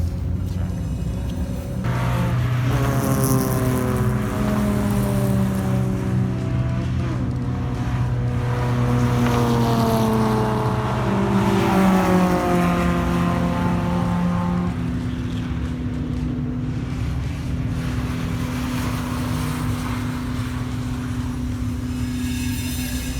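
Race cars lapping a circuit at Tocancipá, their engines droning steadily with rising and falling pitch as they pass, continuous and moderately loud throughout with no talk.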